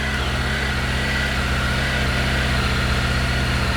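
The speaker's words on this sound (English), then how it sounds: "It requires the bike to be running." A motorcycle engine idles steadily up close, a continuous low, even rumble with no revving and no voices.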